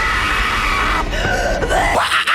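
A woman in The Grudge horror movie screams hard and at full volume, one continuous piercing scream of about two seconds over a dense film soundtrack.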